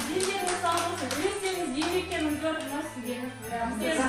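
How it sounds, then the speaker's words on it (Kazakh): Children clap together at a kindergarten New Year party, with a steady stream of quick, fairly close applause under a voice speaking over it the whole time. "Шапалақтаймыз, балалар, шапалақтаймыз."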